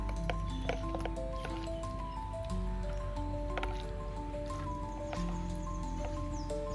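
Ripe bananas squished and mixed by hand in a bowl to make plant fertiliser, giving steady wet squelching and soft sticky squishes close up, with a low hum throughout and no talk.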